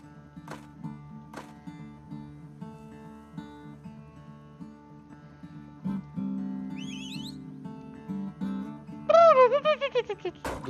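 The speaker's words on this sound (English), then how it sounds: "Does just everyone whistle simultaneously while you're on it?" Characters in the video game Turmoil whistle in quick, rising-and-falling tones, a short cluster first and then a louder run of repeated whistles, all over a steady background music track.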